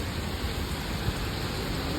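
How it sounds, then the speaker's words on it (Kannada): Steady broadband hiss of rain falling, continuous and even throughout with no voices. "ಮಳೆ ಮಳೆ ನೋಡ್ರಿ ಹೆಂಗೆ ಬೀಳಿದ್ ಮಳೆ"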